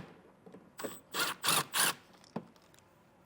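T25 Torx screws being backed out of a wheel well liner on a 2021 Volvo, heard as a few short close bursts of ratcheting clicks, four in quick succession, followed by a light tap.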